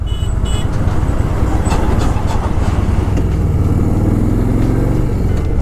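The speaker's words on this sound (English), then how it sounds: "But it's probably the most traffic that I've seen on this route" Dense, heavy highway traffic on a Chennai highway rumbles continuously and loudly, with engines droning, passing vehicles and a few short horn toots cutting through the roar early on.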